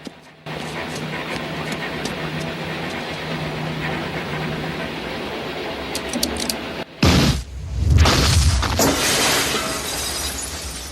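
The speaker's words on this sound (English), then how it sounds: "He hits the switch and then the Oppenheimer effect, but a very quick version of it. The sound gets sucked in. There's no sound. It goes, and then boom." An armored car door blown open by an explosive charge in a heist scene: steady low rumbling ambience cuts to near silence for a beat, then a loud, close burst of explosion with crackling debris that rumbles on afterward.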